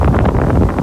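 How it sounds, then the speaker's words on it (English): Wind buffeting a microphone outdoors among icebergs in Ilulissat, Greenland, a loud low rumbling roar with uneven gusty pulses and no other sound. "Oh man, now it's windy over here."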